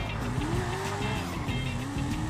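A car's tires squeal in a brief skid while drifting in Grand Theft Auto Online, the whine wavering over engine noise for a couple of seconds.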